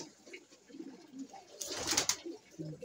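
Pigeons coo faintly in a fancier's loft, a few soft low calls scattered through quiet background, with a brief louder rustle or flutter midway.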